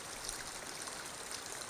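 A stream of water flows steadily in a high mountain area, giving a faint, continuous trickling rush with no voices.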